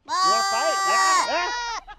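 A goat in a played video gives a loud, wavering bleat lasting under two seconds, its quivering nasal cry rising and falling before cutting off abruptly.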